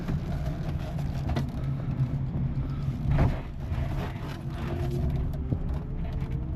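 A Volkswagen Beetle converted to electric drive with a Hyper 9 motor rolls along, giving a moderate, steady road and tire rumble with occasional bumps and a faint rising motor whine, with no voices.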